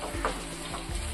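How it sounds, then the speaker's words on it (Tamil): Tomatoes with curry leaves and green chillies sizzle in a hot pan with occasional scraping stirs, close and steady throughout the short moment. "இப்போ தக்காளி நல்லா வதங்கணும், அது வரைக்கும் நம்ம வதக்கிக்குவோம்"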